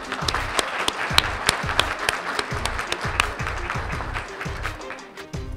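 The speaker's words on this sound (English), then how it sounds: "Round of applause for that" Dinner crowd at a NAACP chapter banquet breaks into sustained applause, dense overlapping claps with a few louder individual claps standing out, steady throughout at moderate volume.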